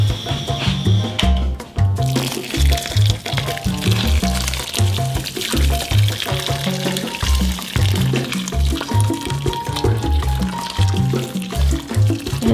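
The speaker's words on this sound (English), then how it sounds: "So now I'm gonna add water," Hot water poured into a bowl of corn flour, butter and grated fresh cheese for arepas, a steady liquid pour with gurgling, bubbly low tones and a few clinks, loud and close.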